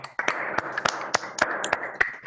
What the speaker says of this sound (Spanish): tenemos la costumbre de activar todos los micrófonos y aplaudirte entre todos